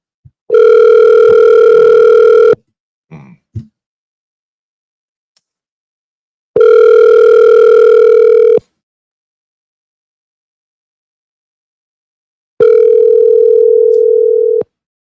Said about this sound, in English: I know he's gonna answer the phone at some point.